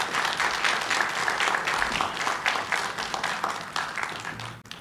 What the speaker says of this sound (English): a round of applause for Mr.